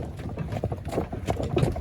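Horses' hooves clip-clop softly at a steady walking rhythm on a farm in Rivne region, Ukraine, faint and fairly distant with a low background hum.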